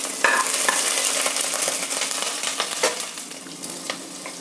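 Mustard seeds with ginger, curry leaves and green chilies crackle and sizzle in hot oil as a continuous close frying hiss with scattered sharp pops, stirred now and then, with no speech.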